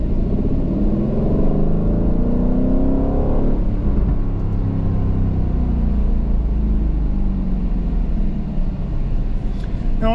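A 2023 Aston Martin Vantage F1 Edition sports car's engine rumbles loud and close, rising in pitch through a rev before settling into a deep steady drone.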